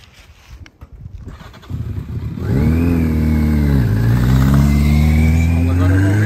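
A motorcycle engine, recorded during a braking exercise with front brake, rear brake and engine braking, is heard close and loud. Its note climbs and holds, dips briefly, then drones steadily after some rustling noises at the start.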